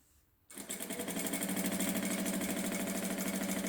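A sewing machine starts abruptly and runs steadily, stitching a back tack along a dress seam, its rapid rhythmic mechanical chatter close and continuous with no talking.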